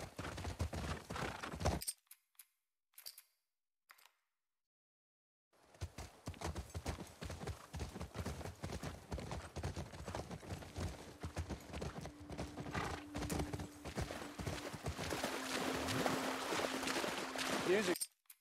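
Horse hooves clip-clopping in The Last of Us Part II, a steady rhythmic trot heard after a brief silence, with occasional whinnies and a low sustained tone rising toward the end.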